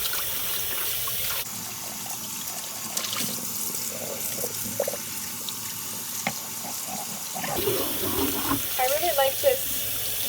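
A new granite molcajete is scrubbed with a brush under running tap water. A steady gush of water from a faucet fills the sound, with brief rubbing and clatter near the end, close by.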